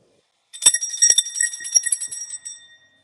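A ding dong bell is rung repeatedly, giving bright, shimmering metallic rings. They start after a short silence, overlap for about two seconds, then ring out and fade with no talking.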